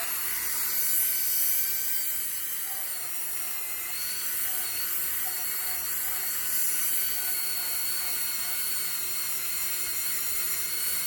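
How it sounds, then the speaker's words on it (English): A polymer clay bowl is buffed on a rotary tool, giving a continuous high-pitched whirring whine that holds steady and close throughout with slight wavering in pitch. "I'm just going to keep buffing this whole thing"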